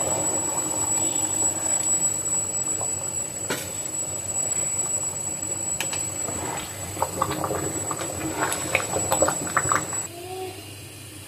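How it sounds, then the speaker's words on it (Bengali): Hot boiled water is poured onto fried rice in a pot for biryani, giving a steady hissing, bubbling wash with scattered clinks and pan knocks that quiets near the end. "এখন আমি দিয়ে দিচ্ছি ফুটিয়ে রাখা গরম পানি।"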